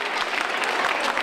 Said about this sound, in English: Big applause to Ivan